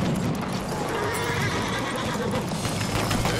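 Cavalry horse in the video game Battlefield 1, a loud neigh and whinny over rapid galloping hoofbeats, amid a dense, noisy battlefield mix.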